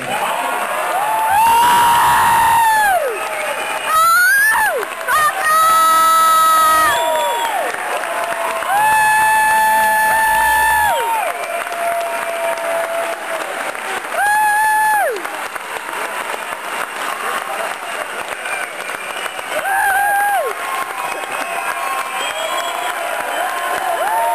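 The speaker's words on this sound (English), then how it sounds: "How about a round of applause for the Panda?" A crowd at a San Francisco Giants town hall meeting in 2011 applauds and cheers for third baseman Pablo Sandoval. Loud, sustained clapping runs under repeated whoops and shouts that swell and fade over about twenty seconds.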